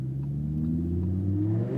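A tuned Lamborghini Huracán LP580-2 with a naturally aspirated V10 revs up close, a deep, smooth rumbling note that climbs gradually in pitch with no talking over it.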